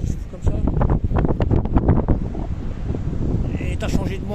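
Strong wind buffets a cliff edge on the Portuguese coast, a steady roaring rush with gusty swells across the whole stretch, voices partly buried beneath it.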